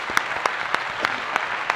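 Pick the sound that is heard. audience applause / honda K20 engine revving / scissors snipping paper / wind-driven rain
audience applause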